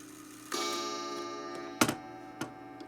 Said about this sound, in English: And here I have just this Korean clock